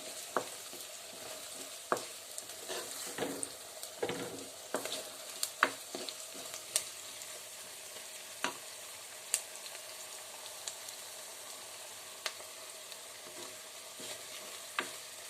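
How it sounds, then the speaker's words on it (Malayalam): Onion and ginger sauté in a pan for a soya chunk fry, a quiet low sizzle under sharp, irregular spoon scrapes and taps against the pan, close-up with no voices. "ഇപ്പോൾ സവാള ഇഞ്ചിയൊക്കെ ഒന്ന് വഴന്നു വന്നിട്ടുണ്ട്"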